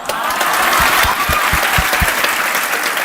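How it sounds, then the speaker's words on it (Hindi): Audience applause at a felicitation ceremony honouring selected 69th BPSC students, a dense steady clapping from a hall full of people that lasts the whole span with no talk over it. "जिस तरह से आप सबके लिए तालियां बजा रहे"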